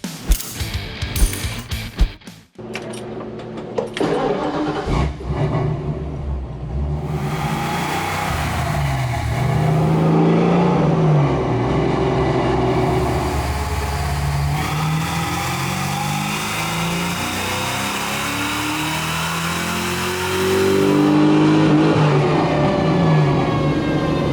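A 1993 Fox Body Mustang with a 331 cubic inch engine starts and revs on a dyno, a loud, close engine roar climbing and falling through the rpm range after a brief cranking start, with no talking.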